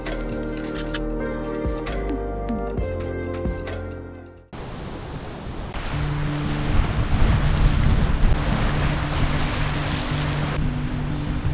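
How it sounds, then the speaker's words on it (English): Strong gusting stormy wind roars and buffets the microphone outdoors, with a broad rushing noise and low steady tones underneath. "It's like very stormy and windy out there."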